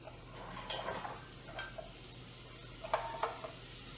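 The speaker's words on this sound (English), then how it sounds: "I'm gonna toss in all the vegetables" Vegetables tumbling into a cooking pot while making rice pilaf, heard as a few soft clatters and scrapes near the start and a sharper pair of knocks toward the end, quiet and close with low kitchen hum.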